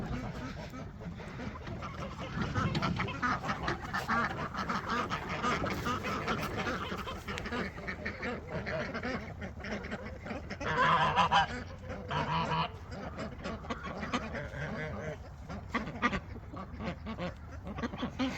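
Ducks quack and honk as they come out of a farm pen, a busy chorus of overlapping calls, moderately close, continuing throughout with a louder flurry about two-thirds of the way in.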